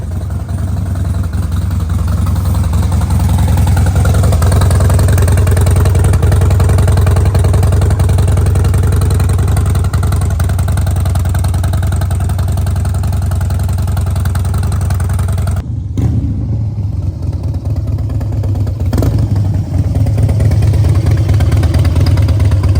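A Harley-Davidson Dyna motorcycle with newly installed custom performance suspension runs loud and close, its engine rumbling steadily for over twenty seconds with a brief dip near the end, no talk over it.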